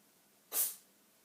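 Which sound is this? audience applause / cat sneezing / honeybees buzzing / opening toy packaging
cat sneezing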